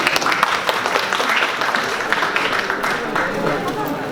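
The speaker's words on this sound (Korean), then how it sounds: "다시 한번 큰 박수 부탁드립니다" Audience applause at a National Assembly textile industry policy forum, steady and dense across the whole stretch, with voices mixed into the clapping.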